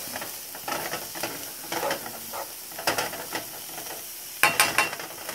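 Carrots softening in a pan for turmeric rice, with soft sizzling broken by bursts of stirring and scraping from a utensil, a few sharper clatters near the end.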